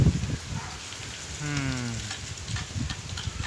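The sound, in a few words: strong wind and rain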